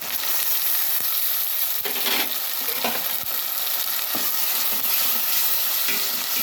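Ginger garlic paste fries in hot oil in a pan for pulao, giving a loud, steady sizzle with faint stirring scrapes throughout and no talking.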